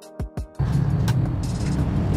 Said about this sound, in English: Powered by a diesel engine, it is reliable in remote areas where electric lines are not available.